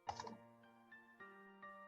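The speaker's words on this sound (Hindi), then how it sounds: "मैंने एंटर क्लिक किया।" A single keypress of the Enter key on a computer keyboard, a soft, quiet click at the start with faint tonal background hum afterward.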